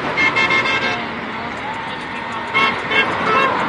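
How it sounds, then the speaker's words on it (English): Several car horns honk in short bursts over a constant wash of road traffic at a roadside rally on a bridge in Arlington, Texas, fairly loud and nearby, with a voice faintly mixed in. "a lot of honks out here."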